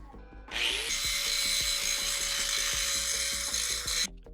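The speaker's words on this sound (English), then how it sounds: "Now I'm gonna take it over to the grinding table and smooth up all these joints." An angle grinder smooths welded steel joints close by. It spins up sharply and holds a steady, loud, bright grinding whine for a few seconds, then cuts off abruptly.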